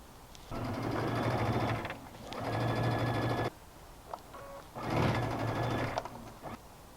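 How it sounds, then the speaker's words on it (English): A sewing machine stitches a seam in tulle fabric for a top, running in three humming, rattling bursts of a second or two each, separated by brief pauses with small clicks of handling. "I'll go back and flip this around and stitch another seam, enclosing that seam allowance."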